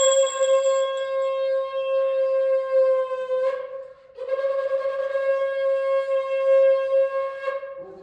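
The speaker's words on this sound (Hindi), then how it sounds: "फिर हम यहाँ पे घंटी बजा रहे थे" A hand bell rings steadily during a Satyanarayan puja aarti in a continuous, bright metallic jangle, briefly pausing once before resuming, close and fairly loud with no talking.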